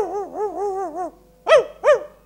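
A voice imitates a dog barking, first a wavering, howl-like run of yelps for about a second, then two short, loud barks after a brief pause.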